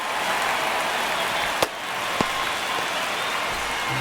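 A baseball stadium crowd in MLB The Show, Angels at Houston, roars as a steady, broad wash of cheering during a tense ninth inning, with a couple of sharp knocks cutting through.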